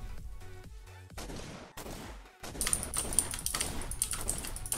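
Gunfire in a Roblox game: scattered sharp bursts of shots that grow denser and louder in the second half, mixed with clicky keyboard-like taps.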